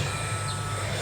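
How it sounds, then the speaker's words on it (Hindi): A handheld metal detector buzzes in vibration mode as metal comes near it, a steady low droning hum held close and constant with no talking. "ये जैसे मैं मेटल इसके करीब लाता हूँ तो ये वाइब्रेट कर रहा है।"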